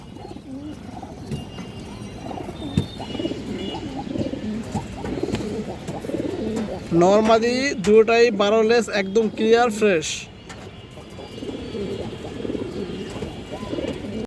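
Pigeons coo in a short burst of repeated throaty calls partway through, with someone talking before and after.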